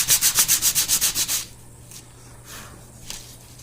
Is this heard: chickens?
no